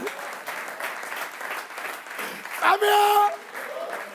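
Applause from a French-speaking audience, rippling claps in short waves beneath a speaking voice, swelling louder briefly near the end along with a sustained tone.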